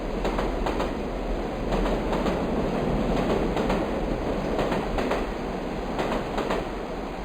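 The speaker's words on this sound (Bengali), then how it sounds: "তারা দুজনে ট্রেনে উঠে বসলে ট্রেন ছেড়ে দেয়।" Cartoon train running steadily along the rails after departing, a continuous rumbling roll with faint rhythmic clatter, fairly loud and unbroken throughout with no voices.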